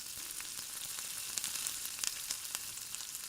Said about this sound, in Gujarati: તે જ ગરમ તવીમાં આપણે અડધી ચમચી જેટલું તેલ એડ કરી અને 3 થી 4 નંગ જેટલા લીલા મરચાં, 20 થી 25 કરી લસણની એડ કરી